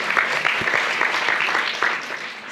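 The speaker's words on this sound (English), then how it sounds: "a round of applause for Emiko, please" Applause from a forum audience at a science communication event in Japan fills the moment, a dense, steady patter of many hands clapping at close range with no voices over it.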